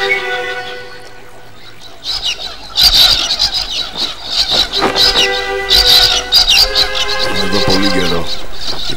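Several birds squeal and squawk in agitated, overlapping bursts that rise and fall over a steady background, loud and close.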